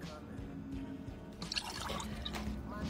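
Water poured and splashing in a home kitchen at breakfast, a near, continuous wet trickle with drips throughout, growing busier partway through.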